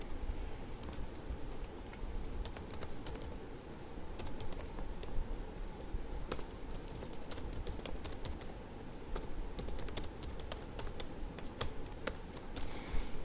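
Steady typing on a computer keyboard, dense close clicking keystrokes in uneven bursts over a constant low background hum, with no talking.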